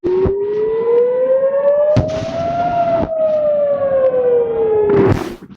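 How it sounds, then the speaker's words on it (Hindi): A loud siren wails in a long, slowly rising and falling tone, punctuated by several sharp bangs in the background. "जरा इस सायरन को सुनिए।"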